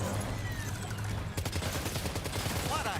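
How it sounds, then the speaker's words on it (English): Gunfire in the video game Death Stranding 2: On The Beach, a dense run of sharp shots and bursts starting after a moment of low rumbling ambience and carrying on rapidly to the end over game sound. "we're gonna have to use a gun and shoot it in the eye"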